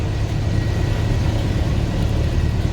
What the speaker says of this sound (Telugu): చూడండి, ట్రాఫిక్ ఎంత ఆగిపోయింది